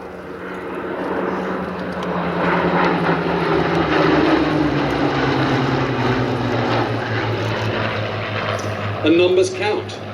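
A vintage fabric-covered aircraft with a metal frame and doped linen skin drones overhead at Sywell airshow, its propeller engine a loud, sustained roar that swells and fades slowly while someone talks over it.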